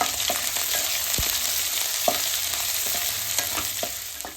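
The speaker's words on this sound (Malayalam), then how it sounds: "ഇഞ്ചി കറിവേപ്പില പച്ചമുളക് ഇങ്ങനെ നന്നായിട്ട് മൂപ്പിക്കാം" Ginger, curry leaves and green chillies frying in hot oil for semiya upma, a steady close sizzle with a few sharp clicks of stirring scattered through, no voices.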